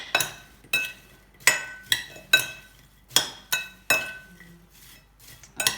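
Ingredients with cinnamon powder being mixed in a bowl for an apple crumble cake: a spoon strikes the bowl in about ten bright clinks spaced roughly half a second apart, close and clear, with no talking.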